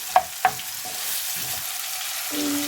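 Vegetables lightly sautéing in a pan for vegetarian Hakka noodles: two sharp clicks of a utensil, then a quiet, low hiss, with the sizzle swelling louder near the end.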